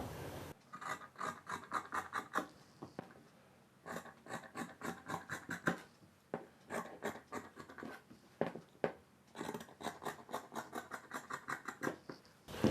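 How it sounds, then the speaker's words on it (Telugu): Marked fabric for a baby frock is cut in long runs of quick, rhythmic snipping and rasping strokes, close and fairly quiet, broken by short pauses. "మనం మార్కింగ్ చేసుకున్న ఈ పీస్ని కట్ చేసుకోవాలి."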